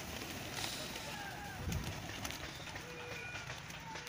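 Soft pigeon cooing drifts in and out against steady outdoor background noise, with faint bird calls and a low rumble partway through.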